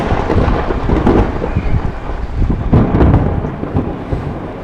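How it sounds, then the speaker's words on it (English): Thunder rumbling over a riverside campsite on the Murray River during light rain, with a few low rolling booms swelling and fading over a soft steady patter of rain. "A little bit of light rain, a few bits of thunder."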